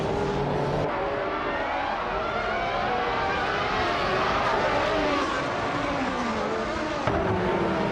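Race cars launching from the start of a race in a racing game, overlapping engine whines rising and sweeping in pitch as the pack accelerates, steady and loud throughout.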